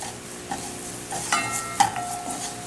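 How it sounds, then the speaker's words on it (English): Curry powder toasting in a pan over low heat, a soft background sizzle broken by a few light scrapes and metallic clinks of a utensil against the pan. "you're just going to toast the curry powder"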